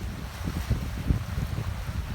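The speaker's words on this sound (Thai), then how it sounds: "อาจจะได้ยินเสียงลมนะคะ เสียงคลื่นนะคะ เพราะว่าน้ำทะเล คลื่นแรงค่ะ" Strong coastal wind buffets the microphone with a dull wash of rough surf underneath on a seaside nature trail in Rayong, Thailand, steady and close, no voices.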